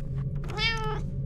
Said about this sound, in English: You heard it meow, you know it's a cat.